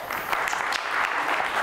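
An audience at a marketing conference claps steadily as a dense, continuous wash of hands that lasts the whole short moment, with no voices over it.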